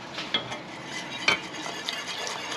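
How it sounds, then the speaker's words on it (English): A spoon stirs a broth and flour mixture in a crockpot, close soft scraping and sloshing with a few sharper clinks against the pot. "Now I'm just gonna stir in the other half."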